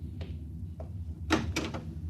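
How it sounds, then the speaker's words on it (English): Door opening as a sound effect in a 1956 science-fiction radio drama, several short soft knocks and clicks followed by a louder rattling latch and creak, faint and close. "Open the door."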